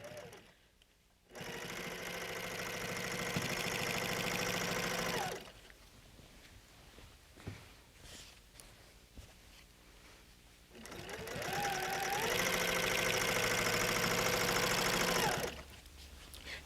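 Sewing machine stitching a quilt, running in two sustained bursts of fast, even mechanical whirring with a quieter pause between, close up, with a person talking softly during the pause.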